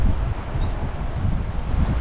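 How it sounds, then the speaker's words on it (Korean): Strong gusting wind buffets the microphone on a coastal walking trail in Jeju, a loud continuous low rumble with shifting rustle and no speech. "바람 세다."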